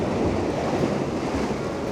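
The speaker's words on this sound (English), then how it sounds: "The tides and the waves are not that crazy" Ocean surf washes steadily along a seascape shoreline, a continuous broadband roar of breaking waves mixed with wind noise on the microphone, fairly close and unbroken, with no voices.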